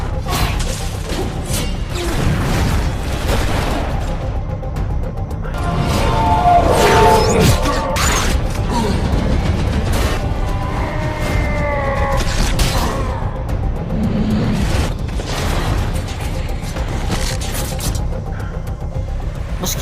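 Sustained heavy gunfire in a film action scene, hundreds of rounds fired at one man, loud and dense, with crashing impacts and swooshing effects layered through the volley.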